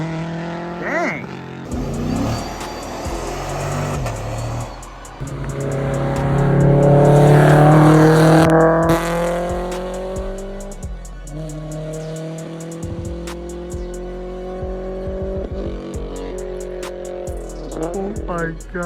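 Loud cars pulling out of a car meet, with revving engines rising into a big accelerating roar, a car passing close, and sharp pops and crackles afterward, with voices now and then.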